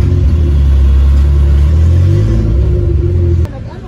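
Steady, loud low engine rumble heard from inside a Toyota Hilux moving through road traffic, then a sudden drop in level near the end.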